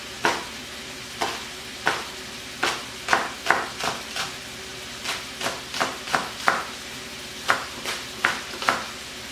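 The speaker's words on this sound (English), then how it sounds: "I'll cut off the ends." Vegetables being sliced with a knife on a cutting board for empanada filling, a series of crisp, irregular chops close by, spaced about half a second to a second apart over faint background hiss.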